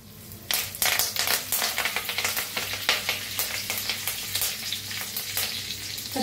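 Curry leaves dropped into hot oil already crackling with mustard seeds and cumin, bursting into an intense, spitting sizzle with rapid pops that settle into a steady close fry.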